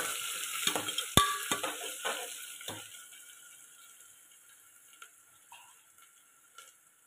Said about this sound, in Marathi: आता हे सगळं आपण छान असं परतून घेऊ।